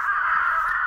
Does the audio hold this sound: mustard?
no